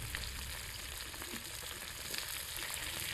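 Eel fish pieces with turmeric cook in a hot pan, giving a steady close-up sizzle and crackle of frying throughout, with no talking.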